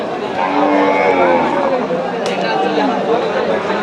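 Cattle at a busy rural cow market in Panchagarh, Bangladesh, with a low moo rising over the constant chatter of a crowd and people talking nearby.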